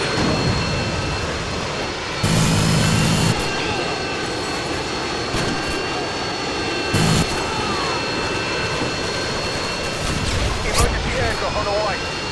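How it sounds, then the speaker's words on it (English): A Harrier jet passes overhead during a Modern Warfare 2 multiplayer match, a steady jet roar sitting under busy game noise with short louder bursts and talk. "Friendly Harrier's inbound."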